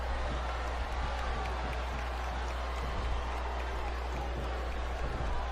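Steady roar of a capacity arena crowd cheering and applauding at a Survivor Series wrestling match in WWE SmackDown vs Raw 2007, a dense, even wash of noise that holds loud and unbroken throughout.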